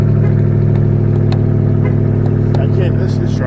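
A big, burly monster truck's engine roars loud and close in a steady, harmonic-rich drone with clattery mechanical ticks, running continuously throughout.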